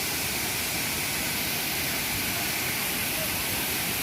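Thripparappu waterfall on the Kothayar river, a 50-foot cascade of white water, roars as a loud, steady broadband rush that fills the whole stretch with no breaks.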